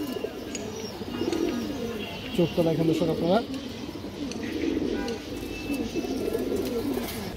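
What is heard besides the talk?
pigeons cooing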